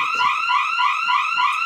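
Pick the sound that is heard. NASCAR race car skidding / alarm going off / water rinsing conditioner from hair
alarm going off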